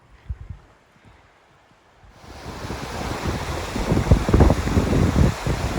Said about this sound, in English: So this is Devonport Leat Aqueduct. You can see there's a lot of water flowing through here today.